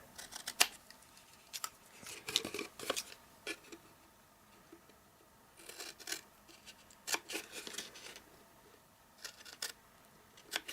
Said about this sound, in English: take your scissors and cut this panel off